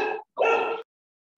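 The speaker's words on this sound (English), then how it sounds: "that sounded like a happy dog" A dog barks happily indoors, two close, loud barks with a short gap between them, then silence.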